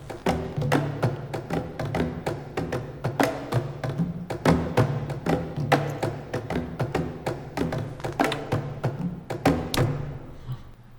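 A Percussion Swarm bata drums patch from Spitfire Audio plays dense, overlapping hand-drum hits in a busy rolling rhythm with resonant low tones, steady for about ten seconds before trailing off.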